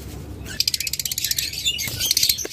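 Pet cockatiels kept with eggs give a quick run of bright, rhythmic chirps, then a few scattered calls, close and fairly loud with no talking.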